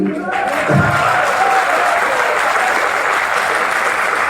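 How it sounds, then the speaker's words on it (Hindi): An audience at a Hindi poetry gathering in Khandwa breaks into lively, sustained applause after a poem ends, with a voice briefly audible at the start before the clapping swells. "अब कविता समाप्त हो गई, तुम सबको है ताली"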